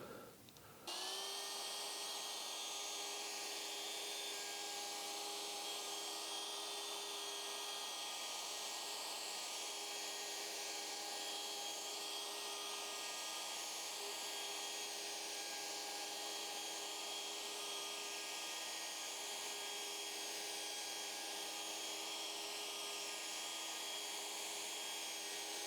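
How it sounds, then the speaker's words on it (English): A router spins up and cuts wood while guided along a template, holding a loud, steady high-pitched whine throughout after a brief startup at the beginning, close and alone without voices. "I'll be running in an anti-clockwise direction to keep the router in against the template"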